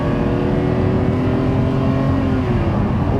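Ferrari Testarossa or Jaguar E-Type sports car engine revving loudly and continuously nearby, a deep sustained roar with steady harmonic drone throughout.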